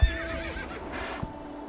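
A horse in the video game Star Stable neighs with a bright, shaky whinny over soft background music, followed by a faint hoof thud.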